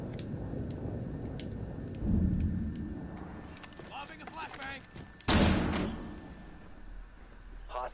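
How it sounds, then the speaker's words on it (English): A flashbang grenade in Rainbow Six Siege goes off as a sudden loud bang followed by a high ringing whine, after an earlier thump, with someone talking underneath. "Lobbing a flashbang."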